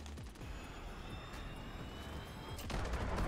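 VTOL killstreak aircraft in Call of Duty: Modern Warfare, a distant droning engine with rapid bursts of gunfire rattling over it, growing louder toward the end.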